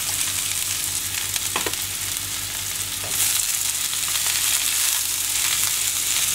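Vegetables for a beef and broccoli stir fry hiss and sizzle loudly in a hot pan, a dense steady frying noise close up with a couple of brief clinks of a utensil.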